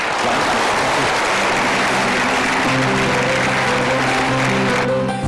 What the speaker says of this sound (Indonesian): Berikan tepuk tangan saya untuk Bapak Andri.